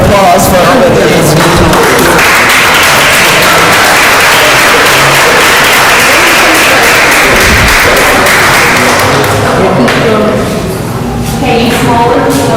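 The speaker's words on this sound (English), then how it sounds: "can we have a round of applause for all of these?" An audience at a Conway city council meeting breaks into loud, sustained applause, dense clapping that swells and stays strong for several seconds before thinning toward the end, with voices mixed in.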